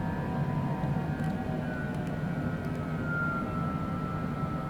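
Business jet cabin on a nighttime approach to Nashville with flaps being extended and landing gear lowering: a steady, loud low engine and airflow roar fills the whole stretch, with faint mechanical whirring and thumps layered on top.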